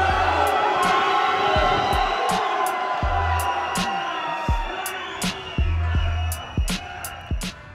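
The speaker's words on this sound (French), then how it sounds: "Nous sommes obligés de partir sous les huées." A crowd of protesters jeering and shouting in a loud, dense wall of voices with rising yells, while sharp bumps and thuds punctuate the din close by.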